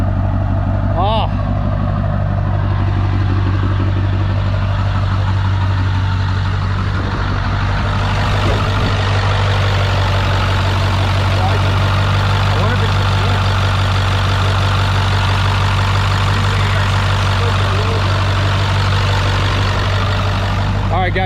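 A Ford OBS pickup's 7.3 diesel idles after its first start in a long time, a steady low rumble with a constant hum, while people talk excitedly close by.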